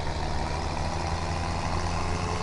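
A steady, low diesel engine of an old tractor in Farming Simulator 17 drones continuously, rumbling evenly throughout with no talking.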